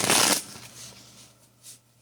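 A quick riffle of tarot cards being shuffled, one crisp burst followed by soft settling taps.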